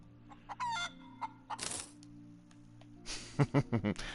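A chicken in the video game Breathedge clucks and squawks in short bursts, with a crowing-like call near the start and a rapid run of clucks at the end, over a low steady game hum.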